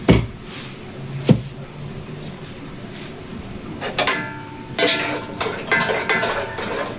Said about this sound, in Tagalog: Tapos, ilagay na natin ang sibuyas tsaka luya.